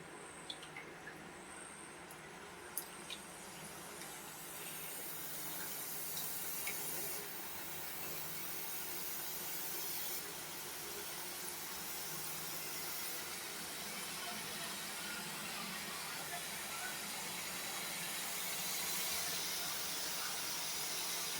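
Spicy karaboondi batter drips into hot oil in a home kitchen, giving a steady sizzling hiss that builds after a few seconds and keeps going, broad and fairly close.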